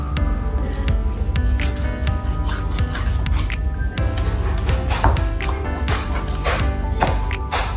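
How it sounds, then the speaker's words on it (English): Raw chicken being cut with a butcher knife, giving wet squishy slicing and repeated cracking chops at close range, irregular and steady throughout. "So now I gotta cut my chicken,"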